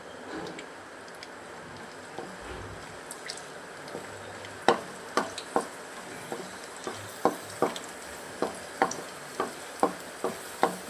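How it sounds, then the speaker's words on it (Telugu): Cashews and raisins frying in ghee in a pan, a soft sizzle underneath a regular series of close scraping stir strokes that grow more rhythmic toward the end, with no talking. "ఇందులో జీడిపప్పు, కిస్మిస్ వేయించుకుందాము."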